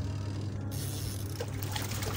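A Ramtons twin tub washing machine churns clothes in water with a steady low motor hum and sloshing, swishing water throughout.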